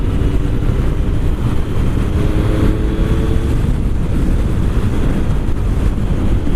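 A Triumph Sprint GT three-cylinder motorcycle engine drones steadily while riding in busy traffic, a continuous loud low rumble mixed with heavy wind buffeting across the whole stretch, with no talking.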